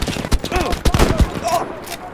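Rapid bursts of automatic machine gun fire from the Battlefield 5 video game crackle in a short, loud flurry, mixed with a voice talking over the shots.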